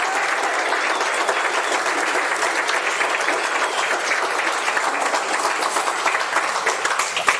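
Sustained audience applause fills a fundraiser dinner event, a dense, steady wash of many hands clapping throughout without pause, loud and close, with no speech over it.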